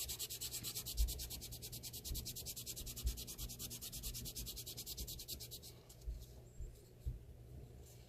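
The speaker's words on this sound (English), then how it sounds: "After you've done that, then you want to sand off any lip that's on there." A small plastic miniature dollhouse shampoo bottle has its lip sanded off, heard as a quiet, close, continuous scratchy rubbing with faint taps and a steady background hum.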